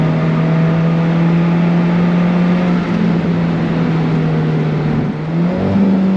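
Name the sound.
Alfa Romeo 4C Spider 6-speed dual-clutch gear shifts, sport exhaust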